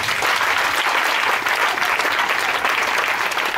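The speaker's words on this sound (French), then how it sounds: "Est-ce qu'on peut acclamer le Seigneur?" Church congregation applauding the Lord, a dense, steady burst of clapping from a crowd, loud and sustained with no talk over it.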